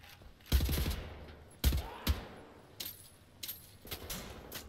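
Gunfire in the shooter game Wolfenstein: The New Order strikes a wall, landing as several sharp, separate bursts and single shots with short metallic rattles, spaced unevenly against a quiet background.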